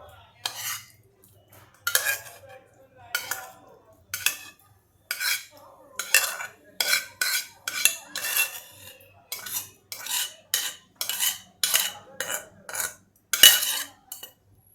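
A metal spoon scrapes and clanks against a pressure cooker while soupy khichdi is ladled out, giving many sharp, uneven clinks and scrapes in quick bursts with short pauses, close and clear.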